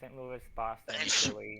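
A single sharp human sneeze bursts out between bits of casual talk during a cast strategy game session, loud and close.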